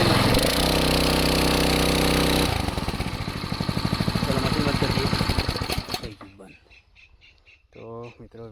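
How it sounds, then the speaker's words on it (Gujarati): A farm water pump engine at a well runs with a loud, steady droning hum, shifts to a rapid chugging putter, then cuts out after about six seconds, leaving quieter sounds and a voice speaking. "હવે જલ્દી આપણે મશીન બંધ કરી દઈએ"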